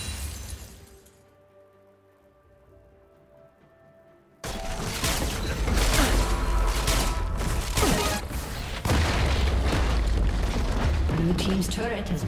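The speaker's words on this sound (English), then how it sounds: "Blue team's turret has been destroyed." In League of Legends, a turret is destroyed with a sudden loud crash of shattering debris and booming blasts. Quiet game sounds come first, then the crash cuts in and churning impacts continue over busy game noise.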